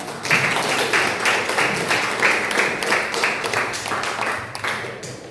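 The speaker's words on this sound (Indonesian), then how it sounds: "Beri aplaus dulu untuk Naima." An audience applauds steadily for a student named Naima in a classroom teaching session, a dense, even patter of many hands clapping at close range with no talk over it.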